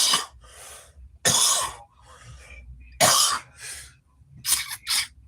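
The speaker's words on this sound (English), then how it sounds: "I don't even usually cough like that." Several harsh, raspy coughs in quick bursts after vaping distillate, close and loud, with throaty breaths and small hacks between them.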